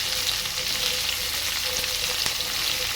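Onions frying in a pan alongside tomatoes and ivy gourd pieces, giving a steady, close, continuous sizzle and crackle with no talking.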